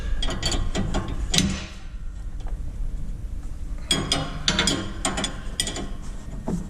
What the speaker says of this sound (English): Run the jam nut on top of it and snug it in as well.